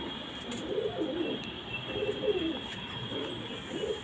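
Pigeons from a prized breeding pair and their young coo softly in a loft, the low rounded calls repeating in short bursts every second or so, close by and steady under a faint background hiss.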